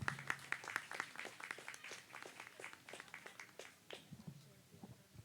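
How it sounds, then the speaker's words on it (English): A small crowd claps for a minister at a community Wi-Fi launch, quiet, distinct individual claps in an uneven rhythm lasting about five seconds and gradually thinning out. "Give your minister another big round of applause, please."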